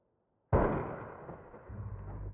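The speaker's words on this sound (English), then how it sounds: "It's 4th of July and people are shooting off fireworks" A loud outdoor firework bang on the 4th of July: one sudden blast, then a long rumbling echo that fades, with a second swell of low rumble near the end. Nobody speaks.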